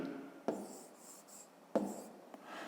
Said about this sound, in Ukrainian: Ну, а зараз заповнюємо табличку.